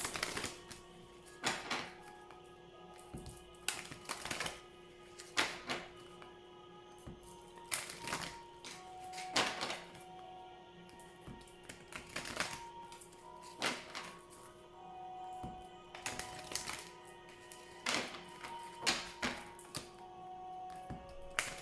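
Repeated crisp riffling and tapping of oracle cards being shuffled, in bursts with brief pauses, close and fairly quiet, with no talking.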